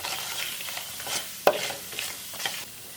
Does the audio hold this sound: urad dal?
yes